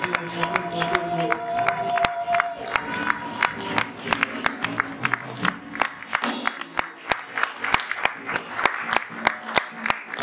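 A church congregation applauding and cheering, dense rhythmic clapping with crowd shouts over music, loud and close, growing steadier and more regular toward the end.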